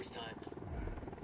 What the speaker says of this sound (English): Was this an Unidad chopper right ahead, too?